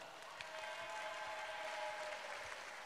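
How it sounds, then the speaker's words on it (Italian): Catania fencing supporters cheer and clap at a fencing awards event, a dense wash of applause and crowd noise that holds steady for a few seconds at a moderate distance. "si sente il tifo di Catania"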